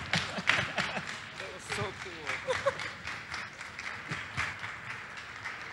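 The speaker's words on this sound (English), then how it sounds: "I think the applause can be louder than that." An audience applauds with a steady wash of clapping while a voice talks over it.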